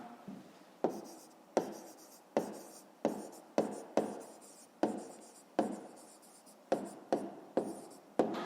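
A pen writes by hand on paper while a fifth-grade math problem is worked out, giving a regular series of short scratching strokes, each with a sharp start and quick fade, close and quiet with no talk.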